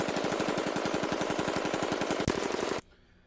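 A fully automatic firearm fires one long sustained burst of rapid, evenly spaced shots, loud and close, with a sharper crack near the end before the firing stops abruptly and leaves a brief quiet tail.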